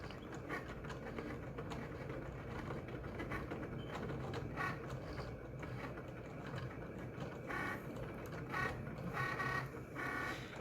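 A Cricut cutting machine cutting a vinyl decal, giving a steady mechanical whirring hum with quick clicking and ratcheting movements of the carriage, continuous and moderately quiet, with no talk.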